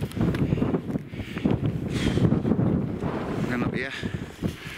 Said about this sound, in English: It's blowing a bloody gale.